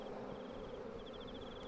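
Honey bees drone in a steady buzz from an opened hive colony that was recently split, a continuous insect hum close by with no talking.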